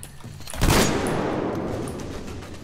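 A gun fires in the Moscow section of Metro Exodus: Enhanced Edition on hardcore difficulty. One loud, booming burst of gunfire comes just over half a second in, followed by a long, reverberant rumble that slowly fades.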